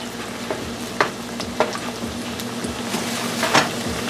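Mackerel croquette patties fry in a pan with a steady close sizzle and crackle, punctuated by a few louder pops and scraping stirs, with no talk over it.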